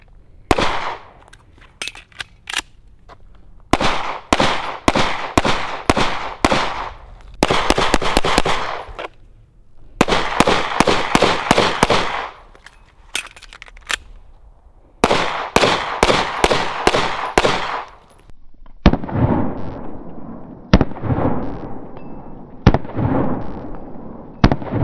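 Rapid pistol fire from a Smith & Wesson M&P built by a 1911 builder, loud sharp shots in fast bursts of several rounds separated by short pauses, outdoors with no talking.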